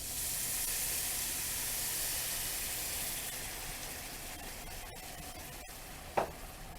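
Hot pan with pork chops sizzling steadily as beef broth hits it, a broad even hiss that gradually softens, followed by a couple of faint scrapes and a sharp clink near the end.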